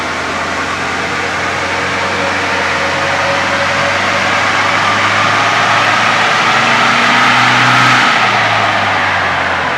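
Steady, loud drone of a diesel engine held at open throttle during a tuning run, with a low hum and a slight pitch rise near the end, constant throughout with no talking.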